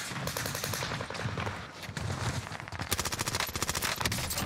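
Rapid automatic gunfire from the video game Call of Duty Warzone, loud and dense bursts of repeated shots, with the final seconds turning into a fast, sharply pulsed stream of rounds.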